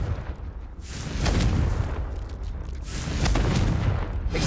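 Confringo fire spell blasts in Hogwarts Legacy, booming in two broad rumbling bursts, one after another, loud and close with a long roaring tail.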